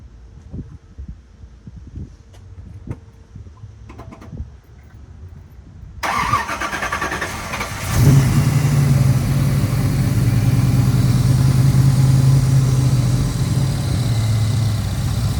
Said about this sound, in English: Also, it idles high, doesn't it?